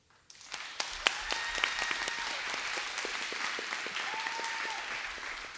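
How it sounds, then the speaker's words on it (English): Audience applause at a September 2023 event, a steady burst of many hands clapping that starts suddenly and keeps going at an even level, with a few sharper claps standing out. "are worthy of an applause"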